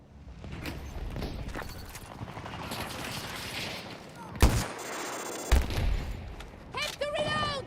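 Gunfire from a weapon in a military video game, heard as a few sharp, loud bursts over a constant busy battle din, with a metallic mechanical rattle near the end and a voice talking through much of it.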